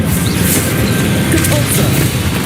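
Spell blasts from the video game Hogwarts Legacy, a dense run of magical bursts and crackling impacts going off one after another at a steady loud level with no pauses.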